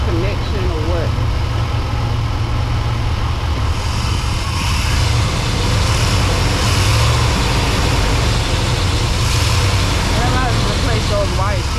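A Chevy engine idles steadily after a coolant temperature sensor wiring repair, with a continuous low rumble throughout and voices talking over it.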